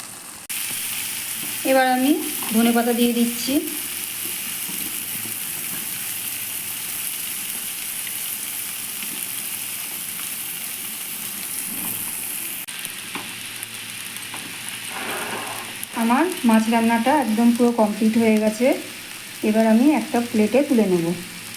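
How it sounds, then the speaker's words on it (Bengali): Rohu fish pieces fry in hot oil with a steady, close sizzle throughout, while a voice speaks intermittently over it near the start and again toward the end. "মাছের গায়ে থেকে আস্তে আস্তে তেল বেরোতে শুরু হয়েছে"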